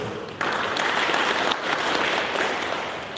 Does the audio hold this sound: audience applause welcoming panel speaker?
yes